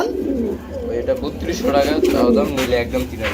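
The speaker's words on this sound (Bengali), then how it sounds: "এই লাহরি কবুতর রেড কালারের মধ্যে" Red Lahori pigeons cooing at a pigeon farm, soft repeated throaty coos close by, mixed with someone talking over them throughout.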